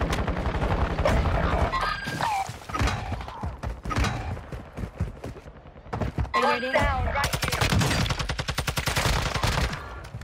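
Rapid bursts of automatic rifle fire from a long-range Lachmann AR in the Warzone video game, loud and close, with pauses between volleys and a voice talking at times.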